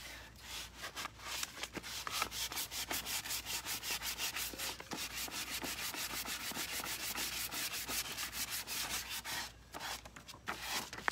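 Folded sandpaper scrubs rapidly back and forth over a surface, a close, steady rasping rhythm lasting throughout with a few brief pauses and no talk.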